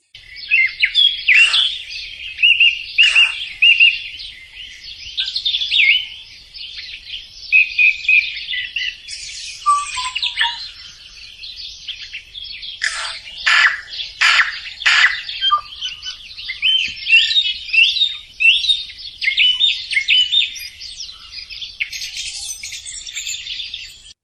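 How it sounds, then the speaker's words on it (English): A dawn chorus of wild birds singing, bright overlapping chirps, trills and whistles from several birds, some close and loud, others further off, continuing steadily with short pauses and no talking. "Have a quick listen to our dawn chorus."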